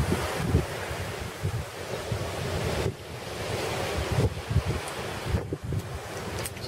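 Gentle sea waves wash steadily onto the shore with a continuous hiss of surf and some wind buffeting the microphone, a few swells cresting and receding without any voices.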